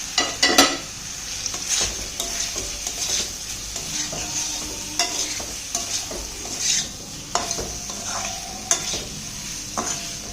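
Potato and pointed gourd pieces frying in ghee, loud and close, with a continuous crackling sizzle and frequent spatula scrapes and knocks on the pan.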